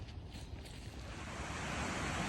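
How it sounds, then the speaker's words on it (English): Cedar Creek at White's Mill Park, swollen after several days of rain, rushes in a steady broadband roar of running water with some wind noise, filling the whole stretch without pause and building slightly toward the end. "so the water's running a little higher than it normally does."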